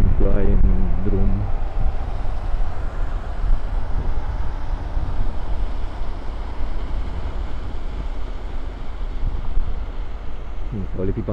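Motorcycle ride through rain on a road near Cluj, with steady loud wind and road rush filling the whole stretch and a voice briefly heard at the start and end.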